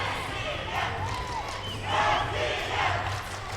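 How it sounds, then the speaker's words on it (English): A supporters' section cheers for the Russian men's recurve archery team at the indoor world championship gold final in Las Vegas, bursts of shouting and chanting swelling in the middle and end of an echoing indoor hall, with a low hum underneath. "There's the cheering section I should say, for the Russian squad"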